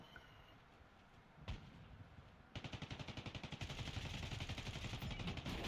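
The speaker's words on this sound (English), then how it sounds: "I hear that stupid airstrike" Rapid gunfire in Call of Duty: Warzone, a lone sharp crack followed by a long, loud burst of evenly spaced shots, heard near and without speech.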